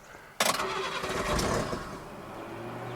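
A supercharged Subaru truck engine cranks and fires abruptly, then settles into a steady, loud idle nearby with no voices.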